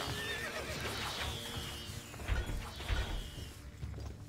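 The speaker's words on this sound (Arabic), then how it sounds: "الفرس تعدو" In the video game Stronghold: Crusader, a horse whinnies loudly and close, then hoofbeats clatter in a quick gallop, with a mechanical ratcheting sound mixed in.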